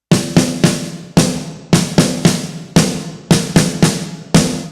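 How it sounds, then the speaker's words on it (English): Crisp drum strokes play a herta rudiment, repeated groups of three quick hits followed by a separate lagging hit, each decaying sharply, loud and close. "what it really is a hybrid rudiment called a herta"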